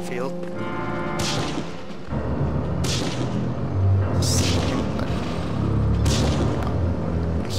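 In the video game Medal of Honor: Frontline, several heavy booming shots ring out at intervals, punchy and loud, with a voice speaking between them.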